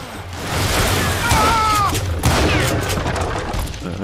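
Gunfire in the Western shooter game Call of Juarez: a loud, close burst of overlapping shots with booming impacts, followed by a second cluster of cracks and a lingering rumble.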